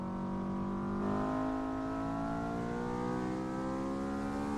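Mazda RX-7 engine in the Assetto Corsa racing game, a steady harmonic drone heard from a distance, holding a sustained mid-revs tone with a slight pitch shift partway through and no talk over it.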